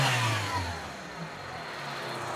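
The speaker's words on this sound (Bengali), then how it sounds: "এই যে ইঞ্জিনের সাউন্ড" A 1500 cc car engine idles and revs steadily nearby, a smooth continuous hum that swells briefly at the start and then settles, heard on its own.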